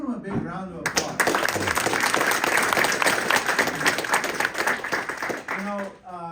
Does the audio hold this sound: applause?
yes